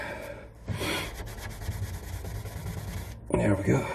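Felt pen is rubbed quickly into varnish on scuffed wooden furniture, making close, continuous rasping strokes that stop briefly near the start and end.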